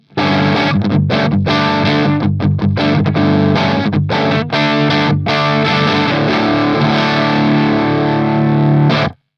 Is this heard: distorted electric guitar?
yes